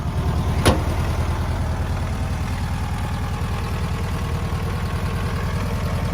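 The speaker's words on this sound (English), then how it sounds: "A really nice sounding motor." A 1970 Volkswagen Beetle with a 1600cc single-port engine running, a steady low idle with an even rumble throughout and one brief high click near the start.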